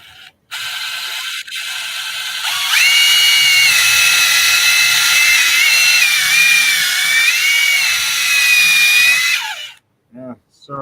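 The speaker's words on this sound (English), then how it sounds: "Drilling a couple holes in your wood." A power drill bores holes into wood for a birdhouse, its motor whining steadily at high pitch for several seconds with slight pitch shifts under load, bracketed by brief handling noises at start and end.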